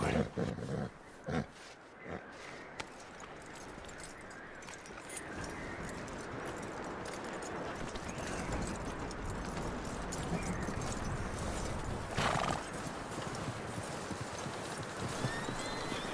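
Steady clip-clop of a horse's hooves in Red Dead Redemption 2 carries on throughout, with a brief whinny-like burst near the start and a rougher swell later; no talking.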